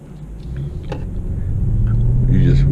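A BMW 650i driving on the road, a steady low engine rumble and road roar building gradually from inside the cabin, with someone talking over it.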